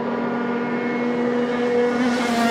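Rotax Max racing karts in Senior MAX qualifying run past with a loud, steady high-pitched two-stroke engine drone that rises slightly in pitch toward the end, no speech.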